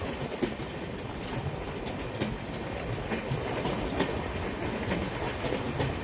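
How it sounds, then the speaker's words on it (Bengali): The Brahmaputra Mail Express rolls into platform two at Jalpaiguri Road station, its wheels giving a steady rumbling clatter with rhythmic clicks over the rails at moderate distance. "দুই নম্বর প্ল্যাটফর্মে ঢুকলো জলপাইগুড়ি রোডের"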